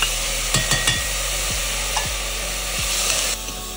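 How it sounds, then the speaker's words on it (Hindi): Onions and tomatoes hiss loudly in a hot pan, a constant close sizzle punctuated by several sharp scrapes and knocks as a spoon stirs them. "इसके अंदर सबसे पहले मैं डालूंगी मेरे प्याज, नेक्स्ट इसके अंदर मेरे पास है यहाँ पे टमाटर"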